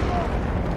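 A grenade detonates in the shooter video game Battlefield 2042, a short, heavy, low rumbling blast that fills the whole brief moment.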